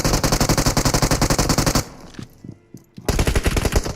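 Loud automatic gunfire from a battle royale shooter game: a long rapid burst, a short gap with a few scattered shots, then another fast volley, all close and dominant.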